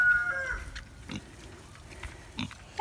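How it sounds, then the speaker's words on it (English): Pigs graze on fresh grass on a farm, giving soft intermittent grunts and munching sounds at close range with quiet pauses between them. "Piggies eating your grass."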